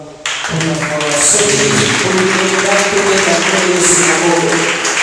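Church congregation breaking into loud, sustained applause, many hands clapping together in a dense, steady roar that starts abruptly and holds for several seconds.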